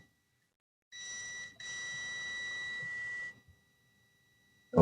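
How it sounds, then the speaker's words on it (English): A multimeter on continuity test gives a steady electronic tone while checking a contactor, one short beep followed by a longer sustained beep of about two seconds, close and clear in a quiet room. "So what I have to do is to use the beeping. That is the continuity."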